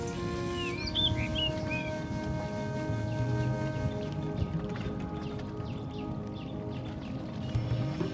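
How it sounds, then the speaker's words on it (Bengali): Several birds chirp and call among hetal trees in a coastal mangrove forest near Bakkhali, with bright calls clustered early, thinning to fainter distant notes over a low, steady background. "নানান ধরনের পাখির আওয়াজ এখানে শোনা যাচ্ছে।"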